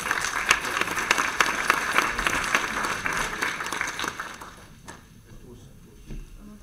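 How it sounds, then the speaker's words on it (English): Audience applause at the end of a medical symposium presentation, brisk clapping that holds for about four seconds and then fades into a quiet room with a few scattered claps. "Can I ask you one more round of applause, please, for Dr. Clementoni and Dr. Sofia?"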